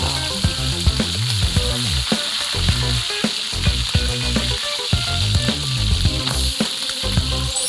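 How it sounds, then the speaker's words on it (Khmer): Mackerel fish frying in a pan crackles and sizzles loudly and steadily, with scattered pops and spatters throughout and no voices. "យើងធ្វើការប្រែត្រីមួយជំហានទៀតដើម្បីឲ្យឆ្អិនសព្វល្អ"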